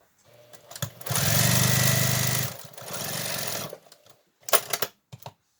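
A sewing machine runs two bursts of stitching on a fabric face mask, first a longer rapid whir and then a shorter, softer run, followed by a few scattered clicks and handling noises close by.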